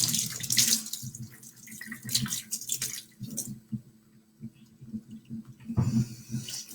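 Tap water running into a soapy sink and raising bubbles in a kitchen, a steady splashing flow that surges and eases for several seconds, with no talk.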